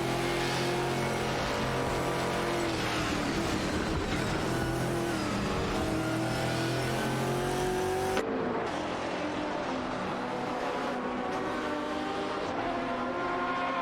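Race cars, including a BMW M3 GT2 and an SCG competition car, roar continuously around the Silverstone GP circuit in a racing video game, a dense engine drone with shifting pitch that holds steady throughout.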